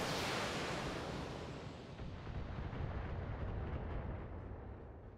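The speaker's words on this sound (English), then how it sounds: "I'm just going to fire one LRM-15 because I want to remain efficient with the ammo that I use." One LRM-15 long-range missile salvo fired in BattleTech, heard as a heavy roaring launch blast that starts loud and fades into a sustained rumbling wash with no talking.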